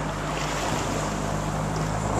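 A Beavertail BT3 boat runs through choppy water carrying three people, its steady engine drone buried in loud rushing wind and splashing water, continuous with no talk.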